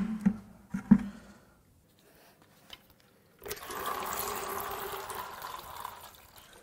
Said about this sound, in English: Oh, so much water in the crankcase.